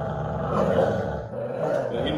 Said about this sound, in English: He never growls like that.